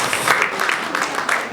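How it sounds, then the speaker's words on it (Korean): An audience at an education roundtable forum applauds, a short burst of lively, uneven clapping with crisp individual claps rising and falling at close range. "여러분 박수 한번 부탁드리겠습니다"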